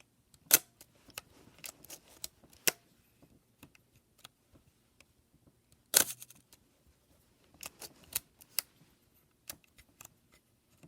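Clicks from setting the shutter speed dial on a 1961 Canon 7 rangefinder camera with a 39mm Leica thread mount: sharp, sparse mechanical ticks in small clusters with quiet gaps between them, close to the microphone.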